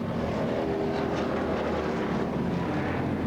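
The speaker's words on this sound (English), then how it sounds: "Whitmire's engine sounds like a wet sour here on this front straightaway" A race car running rough on the front straightaway of Altamont Raceway makes a dense, roaring, wind-blown engine drone, loud and unbroken with no clear rhythm, heard from a distance.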